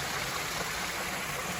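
Stream water pouring down from a lake above into a small woodland pool beside a pike-fishing pond, a steady, dense rushing wash of flowing water with no pauses, fairly close and constant throughout.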